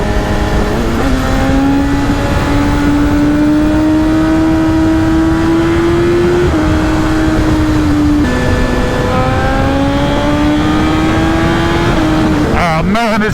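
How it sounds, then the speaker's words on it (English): A sport motorcycle ridden on the road, its engine droning loudly and steadily while rising in pitch through the gears, with a brief dip at each shift, all under heavy wind rush. "this bike is an absolute missile"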